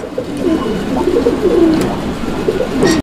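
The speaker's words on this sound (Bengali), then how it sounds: "আমরা এই মুহূর্তে দেখতে পাচ্ছি এখানে একটা সিঙ্গেল কবুতর" Pigeons at a busy pigeon market give repeated low, throaty coos, several overlapping in a steady rolling rhythm against a background of crowd murmur, fairly close and moderately loud throughout.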